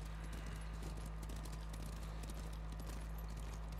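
Hooves of a plain black horse clip-clop at a walk across snowy northern ground in the video game Ghost of Tsushima, faint and steady beneath a low constant hum.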